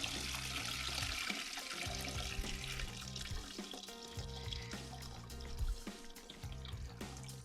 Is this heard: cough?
no